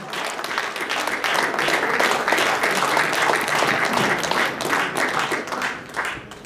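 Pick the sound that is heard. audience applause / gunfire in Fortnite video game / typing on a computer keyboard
audience applause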